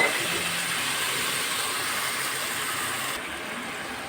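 Water poured into frying spice paste for a Bengali katla fish head muri ghonto hisses in a loud, steady sizzle that holds throughout and drops slightly in level near the end.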